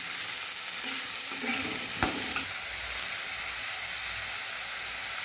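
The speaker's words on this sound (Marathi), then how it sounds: "कढीपत्ता टाकते आणि छान भाजून घेऊ" Chili and onion fry in a pan for a tomato chutney, a constant bright sizzle with a few stirring scrapes and one sharp clink of the spoon partway through.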